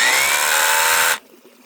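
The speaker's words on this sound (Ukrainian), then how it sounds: "Свердління з ударами." A new rotary hammer drill run in hammer-drilling mode, a loud close steady whine with a buzzing rattle that cuts off abruptly after about a second, leaving near silence.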